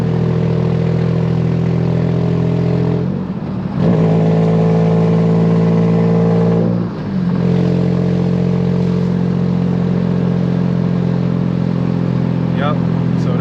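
A Nissan Maxima with a swapped 2018 HR engine and six-speed manual, its exhaust leaking, revs and accelerates loudly from inside the car, engine drone climbing through gear changes with brief dips between pulls.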